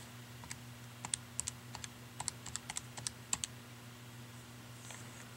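Quick, light key presses on a calculator, about twenty clicks in an uneven run with short pauses, fairly close and alone over a low steady hum.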